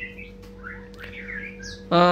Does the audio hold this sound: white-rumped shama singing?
yes